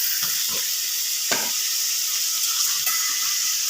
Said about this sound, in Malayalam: ഇത് നന്നായിട്ട് ഇളക്കി യോജിപ്പിച്ച് മൂപ്പിക്കാൻ വെച്ചിരിക്കുകയാണ്.